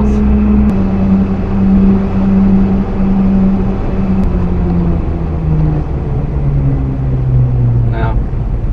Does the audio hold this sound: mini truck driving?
yes